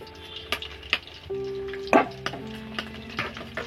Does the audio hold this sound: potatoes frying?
yes